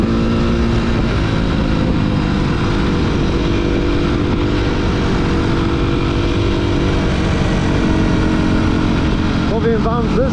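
A Honda motorcycle rides on one wheel, its engine droning loudly and steadily under strong wind rush, close for the whole stretch.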